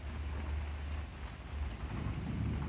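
Steady rainfall with a low, rumbling thunder underneath, a continuous hiss of moderate loudness with no voices.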